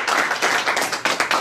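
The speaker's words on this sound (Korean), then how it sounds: "다시 한번 박수 부탁합니다." Small audience clapping at a career lecture, a brief patter of hands in uneven bursts, fairly close.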